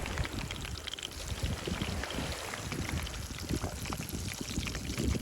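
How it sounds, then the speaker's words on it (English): Pieces of fish dropped into boiling oil over a campfire on an island, a continuous rough bubbling sizzle, loud and close, with scattered crackles. "In just 5 minutes, the oil boiled, and now I throw the pieces of fish in there."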